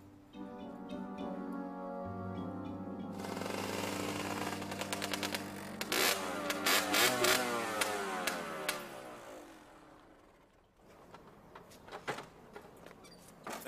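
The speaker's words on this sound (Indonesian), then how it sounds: "Saya kenal suara motor kamu." A motorcycle engine idles nearby, then revs and pulls through a few rising bursts before dropping away, with some faint clunks and rattles around it.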